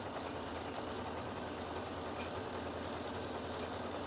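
A sewing machine stitches a single dress piece with a steady, fast, even mechanical whir that runs without pause throughout, close and moderately quiet, with no talking.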